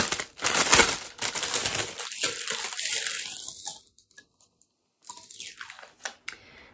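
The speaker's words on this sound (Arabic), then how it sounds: "انا نفتح لكم البيضه باش تشوفوا" An ostrich egg being broken open by hand, with a dense run of crunching, cracking shell sounds close up for several seconds before the noise drops away, then a few brief crackles after.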